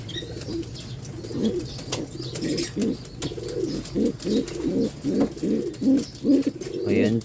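Pigeons coo repeatedly in a low, throaty rhythm, close by a nest with newly hatched squabs, with a steady murmur of background noise.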